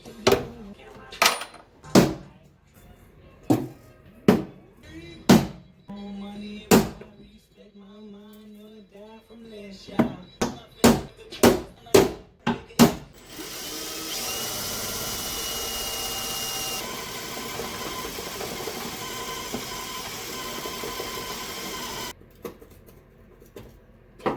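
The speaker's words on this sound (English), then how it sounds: "I'll start punching them and then hitting them with that drill bit" A run of sharp, evenly spaced metallic punching strikes, then a steady loud whirring drill bit grinding for several seconds before stopping, while removing a car battery tray.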